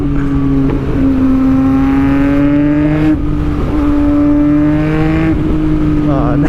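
A Yamaha MT-09 motorcycle engine running loud and close, holding a steady, throaty drone with rising and falling revs, while someone talks over it.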